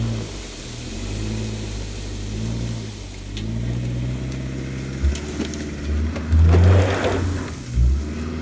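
A Subaru with a CVT and all-wheel drive climbs an off-road hill, its engine droning and rising under load, with bumps and thuds from the terrain growing louder toward the end.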